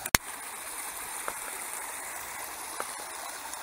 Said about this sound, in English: is the very beginning of my creek. There are several tributaries that come into it.